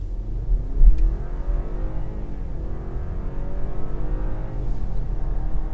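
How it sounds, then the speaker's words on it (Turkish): A BMW 420i Gran Coupe four-cylinder engine revs from inside the car, a loud, steady droning pull with rising harmonics under a low rumble. "bu dört silindirlinin yırtınma sesi de güzel aslında"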